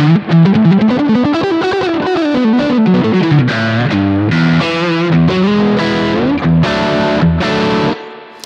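Electric guitar, likely a single-coil Strat-style instrument with a freshly fitted string, played through the classic channel of a Thomas Blug AMP1 Mercury Edition amp. It plays a continuous melodic phrase of sustained and bending notes with a chorus-like, slightly driven effect, loud and alone.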